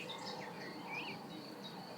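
Faint bird chirps rise from a nature ambience, a few short scattered tweets and insect-like trills over a soft steady outdoor hiss, distant and quiet.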